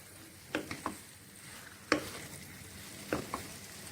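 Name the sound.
stirring chicken bolognese pasta in a hot pan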